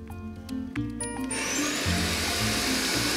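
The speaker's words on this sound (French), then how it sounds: "on va mettre le beurre, qui est quand même bien tempéré, dans notre batteur" An electric mixer beats softened, tempered butter, giving a steady whirring motor drone whose pitch shifts in several steps and builds slightly louder over a few seconds, close and alone.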